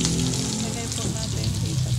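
Pork for adobo fries in a pan with a loud, dense, continuous crackling sizzle, close and unbroken for the whole stretch.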